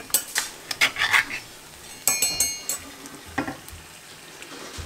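A spoon stirs spices and crushed canned tomatoes in a pot for peasant soup, making close clinks and scrapes against the metal in two bursts of quick strokes, with a short pause between them.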